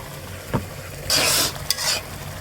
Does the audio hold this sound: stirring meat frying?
yes